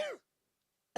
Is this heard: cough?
yes